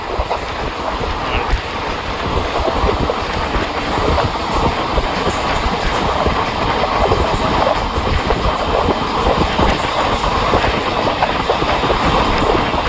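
A train pulls away along the rails at Payyangadi station in Kerala, its steady, loud rumble and clatter continuing without a break for the whole stretch, with no voices over it.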